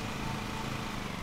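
In the Lawn Mowing Simulator video game, a lawn mower engine drones on steadily, a close, unbroken buzzing rumble with no voices.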